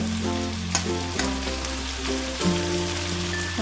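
Banana flower being stirred and fried with spices in a pan, a steady close sizzle with scraping stir strokes running throughout, no voices.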